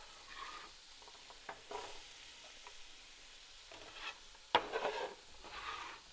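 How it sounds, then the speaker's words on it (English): Chopped onion, carrots, celery and shallots dropped into an oiled pan on the stove and stirred, giving a soft sizzle with scraping stir strokes and a sharper clatter midway, close and quiet, no voices. "We're gonna add just the onion, carrots, and celery and shallots in first."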